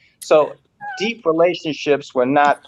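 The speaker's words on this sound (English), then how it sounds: "a hairless cat at that." A hairless Sphynx cat meows loudly and close by in a string of drawn-out, wavering cries, with voices mixed in.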